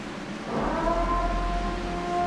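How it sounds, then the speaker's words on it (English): A siren sounds before a restart in an iRacing NASCAR Cup Series race at the Charlotte Roval, a steady wailing tone that rises in and holds over low rumbling background noise. "Now it's time to sound the siren."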